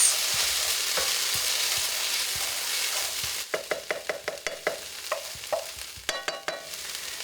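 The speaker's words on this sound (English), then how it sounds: "I'm going to bring the heat down so it simmers" A meat mixture cooking in a pan, first a steady close sizzle, then a run of rapid, evenly spaced utensil taps and scrapes against the pan as the hissing fades; no voices.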